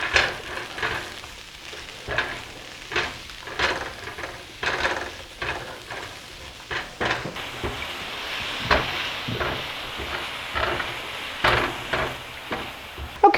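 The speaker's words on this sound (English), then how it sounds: "to our shallot garlic mixture, we are going to saute some mushrooms" Mushrooms sauté in a pan of shallot and garlic, giving a steady close sizzle broken by frequent scraping stir strokes and clatter, with no talking.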